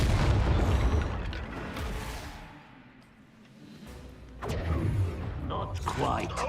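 Fiery Confringo blasting-curse explosions in Hogwarts Legacy, loud booming bursts at the start and again near the end with a quieter dip between, set in dense game battle noise.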